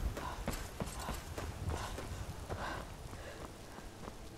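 Horse hooves clip-clop faintly in Skyrim, a quick, uneven run of soft thuds spread across a few seconds under a low background hiss.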